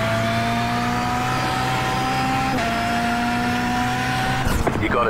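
VW Beetle rallycross race car at Charlotte Rallycross in iRacing, a loud high-revving engine whine held steady, dipping once at a shift, then a burst of rough noise near the end, with a driver talking over it.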